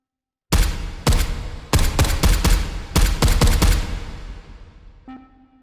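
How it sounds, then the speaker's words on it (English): Suppressed gunshots from the video game H3VR sound as sharp, punchy reports in a broken volley: a single shot, then quick clusters of three and four, each with a short decaying tail, ending in a faint metallic ring. "each gun has its different sort of character in regards to the suppressor sounds"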